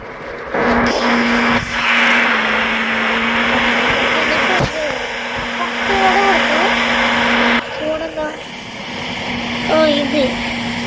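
A bus engine in a bus simulator game drones steadily with a sustained hum and shifting pitch, cutting out briefly a couple of times, while a voice talks over it throughout.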